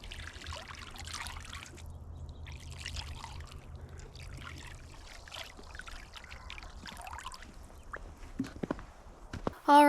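Water is poured into a bird bath outdoors, a soft trickling and splashing that runs on and off at low level amid faint background noise.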